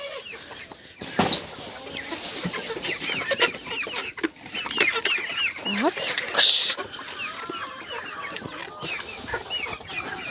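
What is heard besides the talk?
chickens clucking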